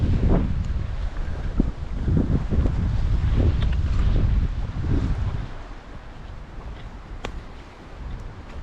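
Wind gusting at a lakeside campsite on a solo canoe trip in Temagami, loud rumbling buffets on the microphone for about five seconds, then easing to a steadier, softer blow with a few brief knocks.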